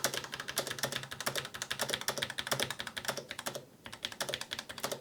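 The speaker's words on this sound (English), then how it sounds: "So let's just quickly type these out manually." Fingers type quickly on a computer keyboard, a dense, close run of crisp key clicks with a brief pause near the end before the tapping resumes.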